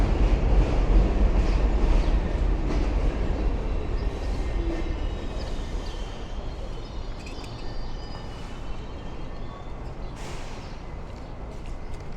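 A D line subway train rumbles steadily through the elevated 20th Avenue station in Bensonhurst, Brooklyn, a broad continuous roar with faint high squeals and clatter, loud at first and easing slightly.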